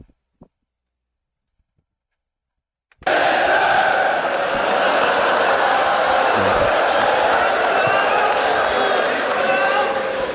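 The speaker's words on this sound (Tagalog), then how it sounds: "Ganda din ang reception ng crowd doon." A crowd at a rap battle cheers loudly and steadily after a few seconds of near silence, the broad roar and applause sustained to the end with voices shouting within it.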